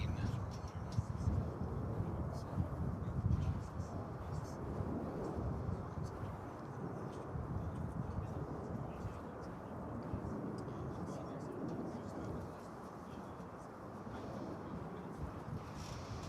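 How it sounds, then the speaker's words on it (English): An American Airlines Airbus A319 rolls down the runway on takeoff at DFW Airport, a steady broadband jet roar held at moderate loudness throughout, somewhat distant and smeared by wind. "we've got rolling down the runway there. Looks like American Flight 1365 to El Paso and Airbus A319"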